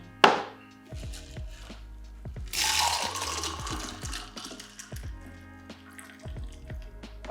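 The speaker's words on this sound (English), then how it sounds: "We're then going to do a bit of a dirty pour into the glass." Cocktail and pebble ice are dirty-poured straight from a shaker into a glass: a clink, then a brief wet splashing tumble of liquid and ice, followed by scattered small clinks and drips, close and fairly quiet.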